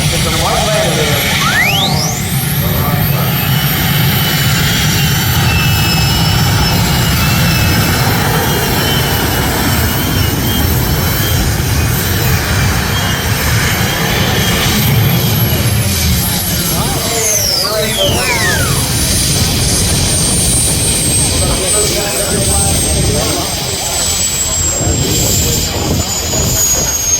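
Heavily weighted pulling tractors roar at a tractor pull event in Du Quoin, Illinois, a loud, sustained engine drone from a distance with rising whines, under an announcer talking over a public address system.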